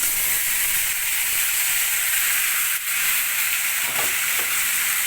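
Desi chicken pieces go into a pan of sour yogurt over low heat and cook with a steady, dense frying hiss, close and even, with a few faint clinks near the end.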